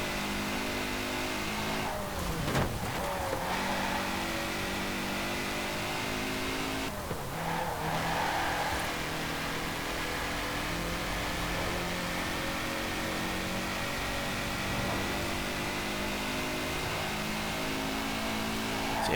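Turbocharged flat-four engine of a 1960 Porsche 356 Outlaw RSR in Forza Horizon 4, droning at steady revs with two sharp shifts or lifts and some tire noise, loud and close throughout with no voices.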